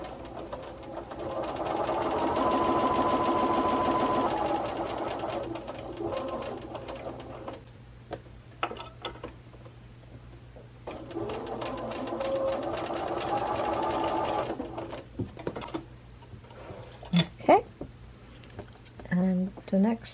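A Bernina sewing machine with a number 57 quarter-inch guide foot stitches a quilt seam in two steady, rapid runs of mechanical whirring, with pauses, fabric handling and a person talking between them.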